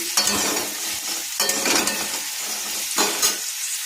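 Potatoes and carrots fry with onion and garlic in a pan for chicken stew, a loud, close, continuous sizzle broken by three strong stirring scrapes, with no talking.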